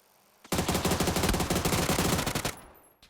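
Automatic gunfire in PUBG rips out as one sustained burst of rapid shots lasting about two seconds, loud and close, cutting off sharply with a brief tail afterward.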